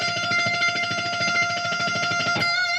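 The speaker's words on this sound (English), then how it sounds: "So when I'm playing the fast lines, my right hand just sounds like this." Rapid, evenly picked electric guitar notes in a fast 80s shred-style line, every stroke at the same strength with no accents, a steady stream of sustained distorted tones that cuts off sharply near the end.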